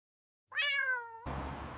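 A single clear cat meow rises out of silence, a drawn-out wavering cry lasting under a second, followed by a sudden burst of broadband noise.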